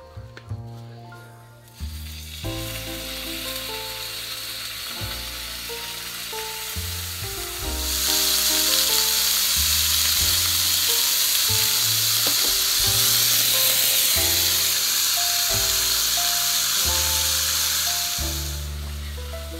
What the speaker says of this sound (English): All I'm doing is getting a good sear on both sides.